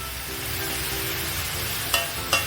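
Vegetables fry softly in oil in a home kitchen, a quiet steady sizzle with two brief clinks of a utensil near the end, close and without talk.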